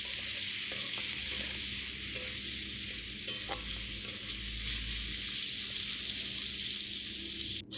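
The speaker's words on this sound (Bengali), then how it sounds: "চিংড়ি মাছগুলোকে দিয়ে দেবো। দিয়ে সেগুলোকে নাড়াচাড়া করে কিছুক্ষণের জন্য ভাজতে রেখে দেবো।" Salt-and-turmeric-coated prawns fry in hot oil in a wok, a steady loud sizzle running throughout with scraping stirring strokes and small spatters, no voices.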